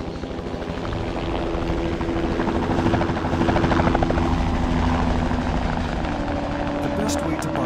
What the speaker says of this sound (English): The best way to Baimuru is by chopper.